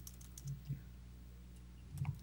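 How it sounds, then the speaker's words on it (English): Faint computer keyboard typing, a few soft scattered keystrokes over a low steady hum, with brief clusters at the start and end. "I was typing."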